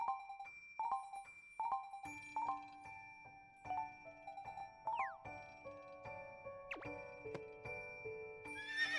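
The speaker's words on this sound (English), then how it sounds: "Let me know whenever you want me to saddle up Tater Trot for you" Horse whinnies and jingling chimes from the Fantasy Life video game, several short repeated neighs and bell tones in a rhythmic pattern, then rising tonal game effects, clear and without speech.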